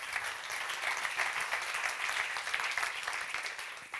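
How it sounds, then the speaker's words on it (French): An audience at an advertising awards ceremony applauds the winners, with a steady, even wash of clapping that stays moderately loud and fairly distant throughout. "On les applaudit."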